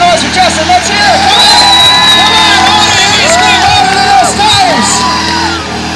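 A large crowd at a tire burnout contest cheers loudly and steadily for six seconds, with whoops, yells and scattered shouting voices layered over a dense roar.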